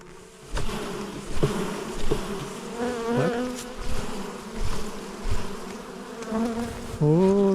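Honey bees swarm around a hive in November, making a dense steady buzzing close by with a droning hum that rises and falls and no voices.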